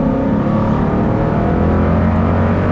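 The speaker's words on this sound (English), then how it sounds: "do another acceleration." A 2018 Lexus LX 570 V8 luxury SUV accelerates onto a highway, its engine giving a steady, loud low drone with road and wind noise throughout, no talking.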